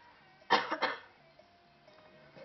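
A single close cough, a sharp burst followed by a couple of quick after-coughs, then quiet room tone.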